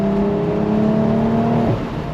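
Engine of a 2025 BMW Z4 M40i with a six-speed manual, driven with the top down, holding a steady hum and then dropping pitch near the end as revs fall, loud and close with no talk.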